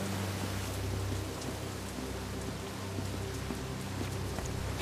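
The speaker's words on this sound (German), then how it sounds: "Vielen Dank für den Regen" Rain in the video game Satinavs Ketten, a continuous steady hiss of falling water with a faint low hum beneath, evenly loud throughout with no voices.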